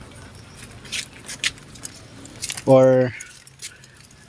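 Keys jingle briefly and loudly near a Suzuki Smash 115 motorcycle, with a few faint clinks before it and a voice speaking quietly.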